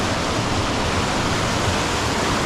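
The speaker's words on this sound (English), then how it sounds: "Quite a lot of water coming down." Water pouring down a steep cliff face, a loud, continuous broadband rush with no break, close by and alone.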